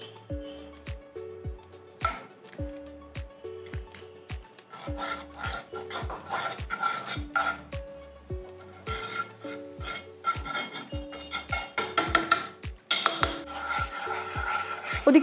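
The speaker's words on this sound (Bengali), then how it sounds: "আমরা বরং এই মুগ ডালটা ঘি দিয়ে নাড়াচাড়া করে নিই" A spoon scraping and stirring mung dal in ghee in a frying pan, with a rhythmic series of rasping strokes against the metal, close and clear with no talking.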